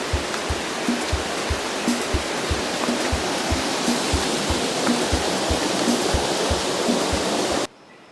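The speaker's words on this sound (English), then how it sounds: "You're looking at the tallest and signature waterfall for this tour." Steady, heavy roar of a tall waterfall in El Salvador, loud and continuous, cutting off abruptly near the end.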